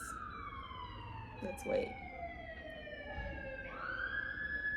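Emergency vehicle sirens wail on a New York City street, a rising and falling tone with a second siren joining, moderately distant over traffic hum, with a brief spoken remark partway through.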